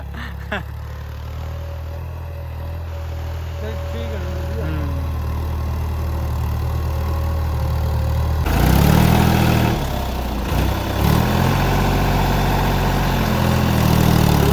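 A new New Holland 3600 tractor engine idles with a steady low rumble, then revs up louder and rougher partway through.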